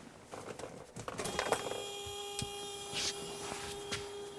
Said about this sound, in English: There goes the antenna.